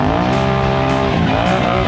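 Nitrous-fed Can-Am side-by-side launching at a drag race, a loud continuous engine roar with steady harmonic drone and tire noise, close and sustained throughout.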